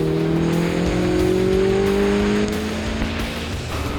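Race cars at speed on a wet track in a downpour during a time attack event, a loud steady engine drone with rising and falling pitch and continuous spray and road noise.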